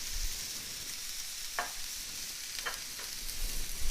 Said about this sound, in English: So we're going to let these sear on one side for a couple minutes.